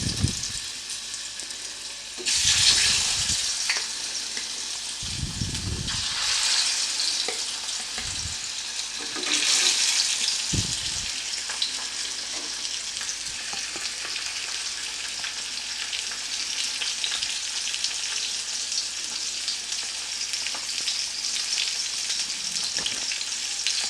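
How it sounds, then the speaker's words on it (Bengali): Pieces of aar fish hit hot mustard oil one by one, each setting off a loud burst of spitting sizzle that settles into a steady, close crackle of frying. "দেখুন তেলটা ভালো মতো গরম হয়ে গেছে। আমি এবার মাছগুলো এর মধ্যে একে একে দিয়ে দিচ্ছি।"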